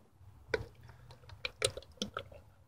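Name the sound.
fresh motor oil being poured into engine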